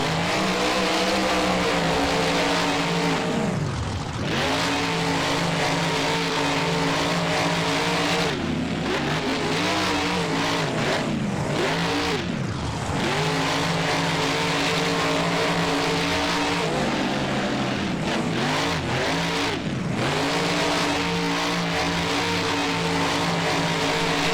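Monster truck engines in BeamNG roar through a dirt fairground race, loud and continuous, with repeated rev dips and climbs as the trucks shift, brake into turns and accelerate out over ramps.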